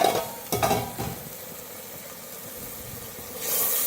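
Masala with tomatoes being stir-fried and mashed in a pan for potato and eggplant curry, a couple of sharp scraping strokes at the start over a low continuous sizzle that swells again toward the end.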